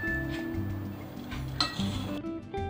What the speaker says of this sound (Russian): И тщательно перемешиваем.